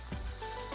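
Onion and tomato puree fries in a pan while being stirred, giving a faint, close, continuous low sizzle with a brief scraping stroke near the start.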